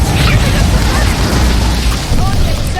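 An Incendio fire spell in Hogwarts Legacy, heard as a loud, continuous roaring blast of fiery rumble that fills the clip, with a voice over it.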